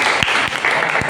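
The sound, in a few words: classroom applause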